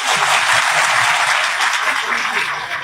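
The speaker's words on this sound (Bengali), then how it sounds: "সবাই একটা করতালি দাও তো জোরে দেখি।" Loud, continuous applause from a crowd of students at a reception, a dense wash of clapping held at full strength throughout with some voices mixed in.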